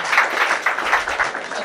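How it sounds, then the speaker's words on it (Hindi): An audience claps in a brief burst of applause, a soft, fairly quiet patter of many hands with no voices over it. "एक बार जोरदार तालियां."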